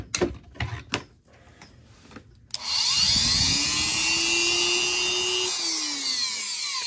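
A Dremel rotary tool spins up with a sharp onset, holding a steady high-pitched whine that rises slightly in pitch; handling clatter comes before it.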